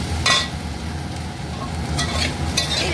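Soybean chunks stir-fried in a pan with onion and green chilli give a steady close sizzle and hiss, with a few brief scraping stirs at the start and again near the end.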